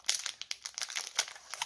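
Scissors cut through a Pokemon Sky Legends booster pack wrapper, making quiet close crinkling and tearing of foil plastic in several quick, uneven snips.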